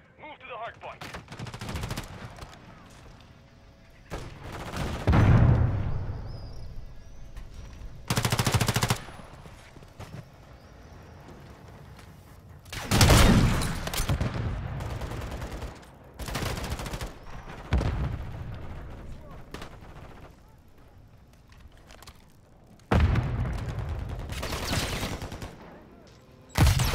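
Shotgun blasts from a modded shotgun in a first-person shooter game come in loud, sharp bursts spaced irregularly across the stretch. Each boom has a short decay, and quieter game ambience and faint voices sit between the shots.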